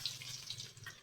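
Brief splash and trickle of drinking water poured over rice being rinsed before cooking in a home kitchen, soft and close.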